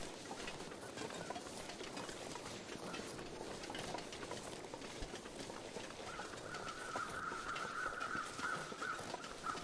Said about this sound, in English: Follow the call of the crows.